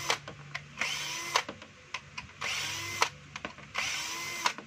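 A power driver unscrews the four screws on the underside of a DeWalt DWE6411 finishing sander, three distinct whirring bursts of about a second each, separated by quieter clicks and handling noise, close up with no talk.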